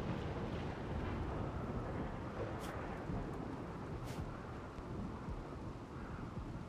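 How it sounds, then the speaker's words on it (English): Rain falls in the video game RimWorld as a steady, dense broadband wash, with a couple of brief rumbling swells rising over the constant downpour. "Oh, there's rain. Okay, cool. There's rain."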